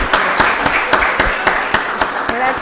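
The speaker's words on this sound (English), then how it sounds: "Let's give that employee another round of applause." Applause from an audience at a Rockdale County Board of Commissioners meeting, a steady wash of clapping with sharp, regularly spaced claps standing out, close and fairly loud for a few seconds.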